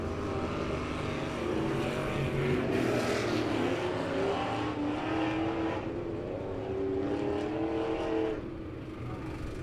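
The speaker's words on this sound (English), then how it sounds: "We're going to bring all the cars out onto the track." Several race car engines rumble and drone together at Lebanon Midway Speedway, with rising and falling engine tones as the cars roll onto the track, a steady loud motor mix throughout.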